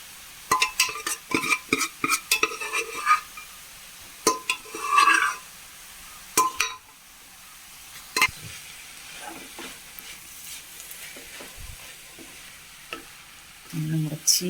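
Spinach and lentils stir-fry in a pan, with bursts of sharp spatula scrapes and clinks against the metal over a low sizzle, separated by quieter stretches and a few later knocks.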